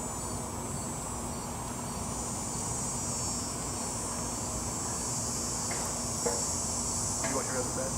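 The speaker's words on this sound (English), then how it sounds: "You're gonna hear cicadas." Steady, high-pitched cicada droning fills the background continuously, a constant buzzing chorus with a few faint clicks and no voices, in Phoenix.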